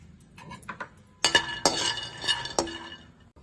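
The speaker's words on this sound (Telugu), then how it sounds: "మనం స్టవ్ వెలిగించుకొని కడాయి పెట్టుకొని 2 స్పూన్లు పల్లీలు వేసి వేపుకుందాం" Dry peanuts being stirred and roasted in a kadai on a stove, with close, clinking metallic scrapes and rattles of the spoon against the pan arriving in irregular bursts.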